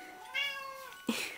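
A cat gives two close, fairly soft meows, a drawn-out rising-falling cry followed after a short gap by a sharper, shorter one, in a quiet indoor space.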